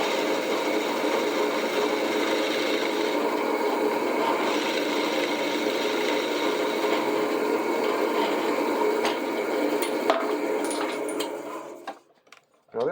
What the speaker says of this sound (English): now I'm ready to go 790 RPM into oak with a 3/8 Forstner bit